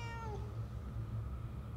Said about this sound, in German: Die Katze.